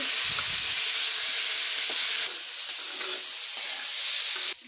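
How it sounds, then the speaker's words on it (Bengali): Marinated chicken sizzling in hot oil in a wok, a loud, steady bright hiss and crackle that dips briefly and then cuts off near the end. "এবার চিকেনটা ম্যারিনেট করা হয়ে গেছে, তারপর কড়াইতে দিয়ে ফ্রাই করে নেব।"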